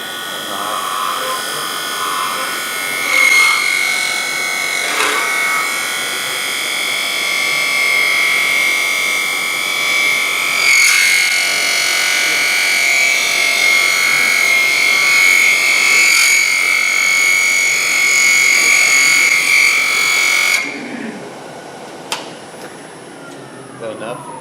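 A beading tool cuts a spinning wooden top on a lathe, producing a loud, steady, high-pitched whine with a buzzing chatter for about twenty seconds before it cuts off abruptly.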